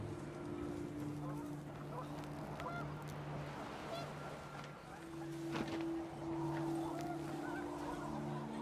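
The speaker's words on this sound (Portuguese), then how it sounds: "The wind picked up, and panicked geese appeared" Panicked geese honking in the video game What Remains of Edith Finch, a flock's repeated nasal honks over gusting wind, faint and mixed with a voice talking over them.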